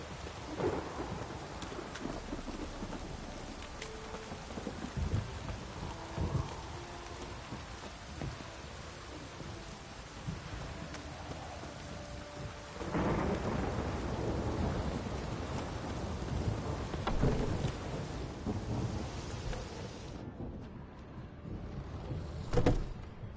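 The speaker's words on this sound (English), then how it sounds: "This downpour's a bastard, it is." Heavy rain pours steadily in The Witcher 3 while thunder rolls and rumbles several times, one loud crack building midway before the storm fades out.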